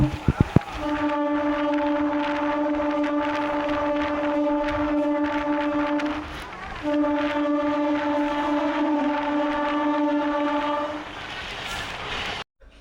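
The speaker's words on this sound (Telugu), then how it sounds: "మ్యాక్సిమం 100 స్పీడ్ కొడుతున్నాడు మమ్మీ ట్రైన్, చాలా స్పీడ్గా వెళ్తున్నాడు" A passenger train on the Palakollu to Nidadavolu line runs at speed, its horn blaring in long steady tones over continuous rumbling wheel and rail noise, with a short break midway before the horn resumes.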